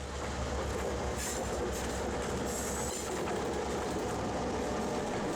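A GP9 diesel locomotive, ex-Mount Hood Railway number 89, hauls a train of four empty tank cars on the Santa Cruz branch line, a steady loud rumble of engine and rolling cars with brief wheel squeals and clatter, no voices.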